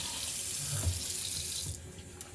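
Water runs steadily from a household tap during a plumbing check in a home, a close, continuous hiss and splash that cuts off sharply near the end, leaving quieter room tone.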